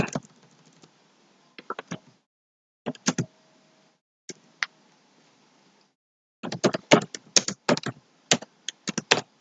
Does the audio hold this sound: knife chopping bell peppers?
no